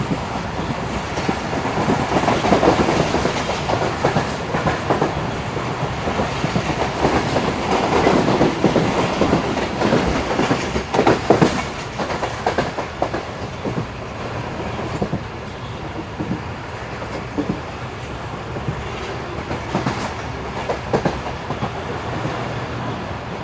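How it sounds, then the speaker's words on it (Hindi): Karakoram Express with a new rake running at speed on smooth track between Khairpur and Bekwati, a steady, loud rolling rumble with rhythmic clickety-clack of wheels over rail joints throughout. "ये ट्रैक काफ़ी स्मूथ है जी, खैरपुर से लेकर तकरीबन बेकवाती तक का ट्रैक साउंड आप सुन सकते हैं इस वक्त।"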